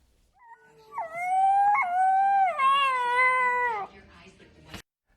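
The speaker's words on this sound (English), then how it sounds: "Simpson is a 7-week-old gray wolf pup found abandoned on private property near Condon, Montana." A 7-week-old gray wolf pup, found abandoned in Montana, gives one long, loud, clear howl that rises and wavers. A brief yip comes before it and a short break falls partway through.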